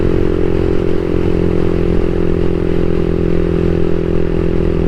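A CSC SG250 motorcycle fitted with a MotoCult Stage 4 exhaust rides steadily, its engine droning loud and continuous with a low, rumbling exhaust note and some wind buffeting, no talk over it.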